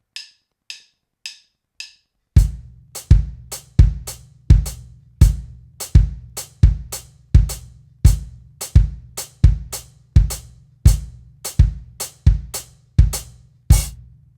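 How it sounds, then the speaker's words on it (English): Four light clicks count in, then a drum kit plays a steady repeating five-against-four polyrhythm, the four on bass drum against snare hits, loud and close, with overlapping cymbal accents. "instead of playing the 4 on the snare drum, I'll play the 4 on the bass drum"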